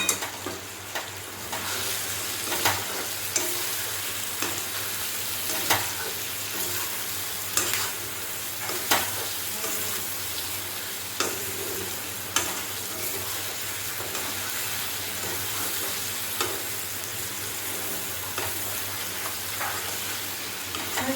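Fried chicken pakoras tossed and stirred in a frying pan for chilli chicken, an even sizzle broken by regular scraping strokes of a spatula every second or two, close and loud, with no one talking.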